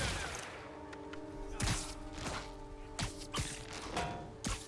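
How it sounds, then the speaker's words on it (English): Web bomb going off in Marvel's Spider-Man, a cluster of sharp impact bursts and thuds spread over a few seconds against a steady game music bed, fairly loud and close. "I think a web bomb is in order."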